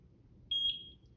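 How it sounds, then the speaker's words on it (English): A Eufy 4G LTE Cam S330 solar security camera gives a single short electronic beep after its button is pressed, clear and close against a quiet room. "we're going to press the button for 1 second and it should beep"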